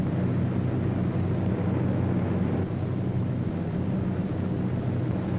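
A formation of eighteen WWII B-17 bombers in flight, a steady, dense multi-engine drone with low harmonic throb that holds evenly throughout without pause.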